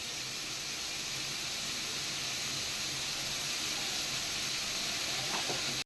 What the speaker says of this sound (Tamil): இப்போ இஞ்சி பூண்டு பேஸ்ட் போடுவோம்.